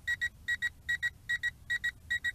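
A Potensic D58 FPV drone gives rapid electronic beeps in quick pairs, six double-beeps evenly spaced in a steady, urgent rhythm, sharp and close, with no talking.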